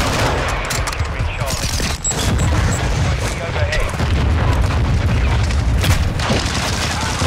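Launcher explosions and heavy gunfire in the 2022 Call of Duty Modern Warfare 2 video game, a dense, loud, continuous barrage of booms and rattling shots with talk mixed in underneath.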